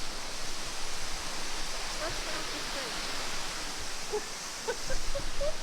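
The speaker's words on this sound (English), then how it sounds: "It's swimming in a waterfall in your backyard." Steady rushing water from a backyard waterfall, a broad hiss of falling water, with faint voices and small sounds mixed in.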